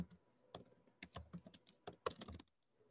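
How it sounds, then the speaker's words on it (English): Typing on a computer keyboard, a quick irregular run of sharp key clicks in short bursts, close and fairly quiet, with brief pauses between strokes. "I'm going to type it out."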